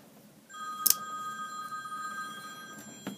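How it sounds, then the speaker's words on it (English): A phone rings nearby with a steady electronic tone that sustains for a few seconds over quiet room noise, with small knocks at the start and near the end and no one speaking. "Phone was ringing"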